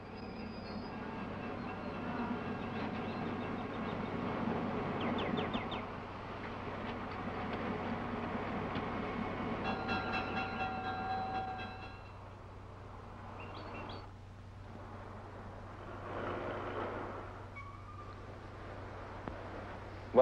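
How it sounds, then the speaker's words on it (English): A train rumbles steadily at a station, with squeals and clanks, then fades to quieter ambience with faint chirps near the end. "Well, there's my train."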